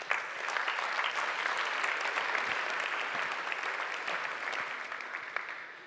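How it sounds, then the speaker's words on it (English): An audience at the ALMathon Challenge 2025 finals applauds in a dense, steady wash of clapping that carries on at an even level throughout, with no voices on top. "this is really worth an additional applause for all of you who participated all over the years"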